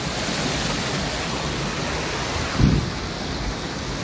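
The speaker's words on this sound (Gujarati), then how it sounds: "આખી નદીમાં આવી રીતે ભરાઈને પાણી જાય છે" River channel brimming with water released from a canal, a steady broadband rushing roar throughout, with one brief low thump near the end and no voices.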